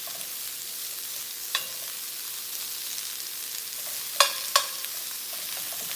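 Cauliflower pieces pressed flat to roast in a hot pan, giving a steady faint sizzle broken by a few sharper crackles and pops, heard close with no talking.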